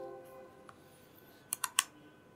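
Computer keys are pressed in three quick, sharp clicks close together near the end, preceded by a faint tap, quiet and close against a hushed room.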